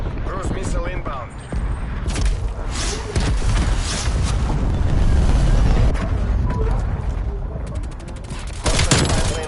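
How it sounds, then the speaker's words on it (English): A cruise missile strike lands in the Nuketown map of the video game Black Ops Cold War, a dense run of booming explosions and rapid gunfire lasting several seconds, loud and continuous, with a game voice speaking over parts of it. "Cruise missile inbound."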